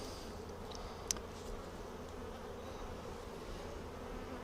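Honey bees buzz steadily around an open hive frame during a beehive inspection, a soft continuous drone with one brief sharp click partway through and no talking.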